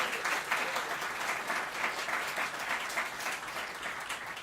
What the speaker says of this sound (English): Big round of applause for all the pianists that performed for us here tonight